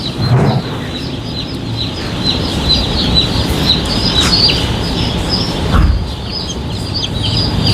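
A huge crowd of chicks and chickens in a large poultry farm, a continuous loud din of high peeping and clucking that fills the space evenly throughout.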